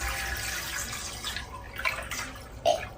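Water poured from a jug into an indoor kitchen hydroponic garden reservoir after mixing in nutrient solutions, a steady close splashing stream with a few brighter splashes near the end.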